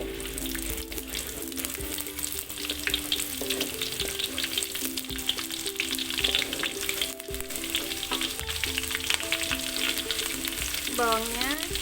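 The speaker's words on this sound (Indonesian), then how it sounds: "Kita akan menumis bawang merahnya dulu" Shallots sautéing in hot oil for an Acehnese chicken curry give a steady, close crackling sizzle that runs unbroken throughout, with faint tonal background sounds and no speech.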